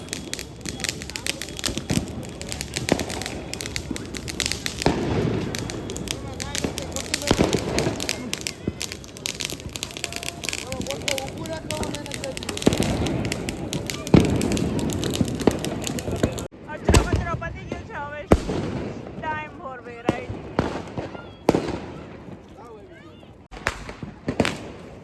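Diwali firecrackers bursting outdoors in Ahmedabad, a dense run of sharp cracks and pops overlapping in irregular bursts, loud and close at first, then thinning out into scattered snaps, with voices chattering underneath throughout.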